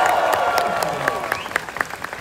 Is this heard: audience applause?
yes